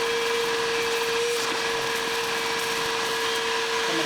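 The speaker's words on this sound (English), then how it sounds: "Let's start by vacuuming everything in here real quick." Shop vacuum running steadily inside the radiator area of a Porsche 987 Boxster/Cayman, a continuous close-up whine with a strong steady tone, no pauses, no talking.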